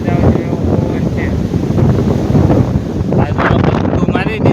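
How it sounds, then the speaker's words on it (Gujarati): Strong wind sweeps across an open farm field as light rain begins, loud, continuous roaring and buffeting against the microphone from start to finish. "પવન બહુ છે, વાતાવરણ એવો પવન છે."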